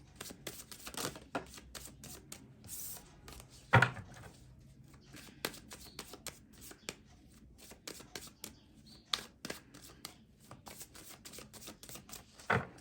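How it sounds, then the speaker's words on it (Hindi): Tarot cards are shuffled by hand up close, a run of quick papery riffles and soft flicks with occasional louder slaps, no talking. "मैंने कर ली है सफलिंग।"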